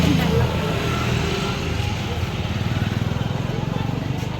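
Motor vehicles, including what sounds like a motorcycle or car engine, pass along a road nearby, a steady engine drone with a pulsing rumble building toward the end, heard under a continuous roadside background.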